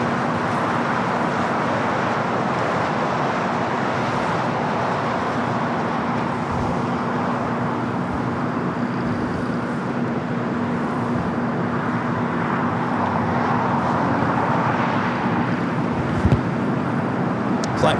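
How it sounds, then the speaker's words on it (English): SkyWest CRJ 200 regional jet touching down on the south side of LAX, a steady distant roar of jet noise over a continuous hum, with no clear voices. "CRJ 200 touching down here on the south side,"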